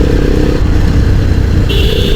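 A Bajaj Pulsar 220F motorcycle rides through the hills of Uttarakhand near Nainital, its engine a loud, close, steady drone that shifts pitch briefly near the end.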